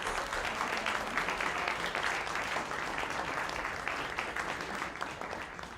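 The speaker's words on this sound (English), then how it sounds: "Would you guys take a minute to thank your parents with a round of applause, please?" Parents and guests at a school presentations evening break into a steady, dense round of applause, many hands clapping together at moderate volume, easing slightly toward the end.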